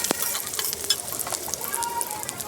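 Green chili, a little garlic, dried chili and onion fry in oil in a wok, a continuous close crackling sizzle with scattered spits and pops.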